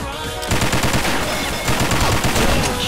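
Rapid automatic gunfire bursts from a Snow Valley video game match, loud and continuous with dense repeated shots and a brief pause midway, no talking over it.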